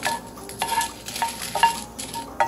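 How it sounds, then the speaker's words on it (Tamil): Dried red chillies roasting in a pan over low gas, with a soft steady crackle and several sharp scrapes and clinks of a spoon against the metal at irregular intervals. "நல்லா வரமிளகாலாம் வறு பண்ணணும்"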